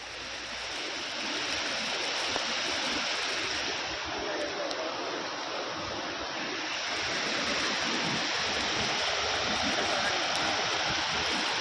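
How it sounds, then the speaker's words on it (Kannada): Heavy rainwater flooding a mining area in Ballari, Karnataka, where mining trucks stand partly submerged: a loud, continuous roaring rush of fast-flowing floodwater, steady and unbroken from start to finish. "ನೋಡಿ ಎಂಥ ರಭಸದಿಂದ ನೀರು ಹರಿತಾ ಇದೆ"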